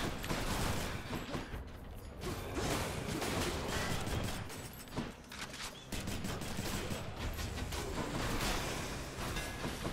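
Explosions in the Hades video game go off in rapid, crackling bursts, one after another almost without pause, loud and continuous for the whole stretch with no talking.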